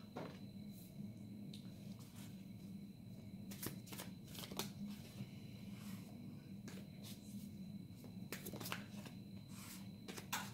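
Tarot cards are shuffled close up during a card reading, a soft continuous riffling and sliding with occasional sharper snaps, quiet and without talk.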